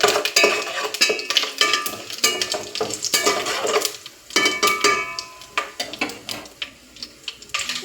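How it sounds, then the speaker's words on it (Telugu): Curry leaves and mustard seeds sizzle and crackle in hot oil. Frequent clinks from a spoon against the pan sound close by, with no talking. "ఆయిల్ వేడి అయిపోయింది. ఇప్పుడు కొంచెం కరివేపాకు వేసుకుందాం, కొంచెం ఆవాలు"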